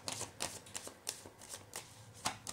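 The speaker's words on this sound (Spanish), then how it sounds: "no tengo las barajadas, sino que las voy a barajar en el momento." A deck of cards, sorted by suit, is shuffled by hand in a series of quiet, close, papery riffling bursts with short gaps between them.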